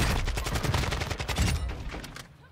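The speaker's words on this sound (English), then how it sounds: "Someone's shooting." Rapid bursts of automatic gunfire in Warzone 2.0, dense, loud and close, rattling steadily before tapering off toward the end.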